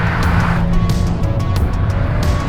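A BMW Z4 fitted with Formula 1 wheels accelerates hard nearby, a loud, steady roar with rising pitch and no talking.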